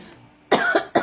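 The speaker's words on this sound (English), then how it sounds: "I'm still coughing" Three short, sharp coughs in quick succession, close and loud, after a moment of near quiet.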